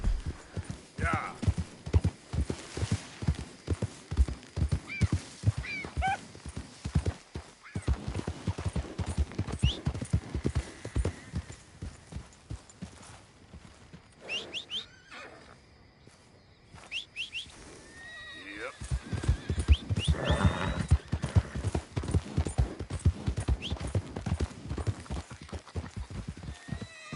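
Horse galloping in Red Dead Redemption 2, a loud, rapid run of hoofbeats with neighs and snorts, briefly slowing mid-clip before picking up again, close and continuous.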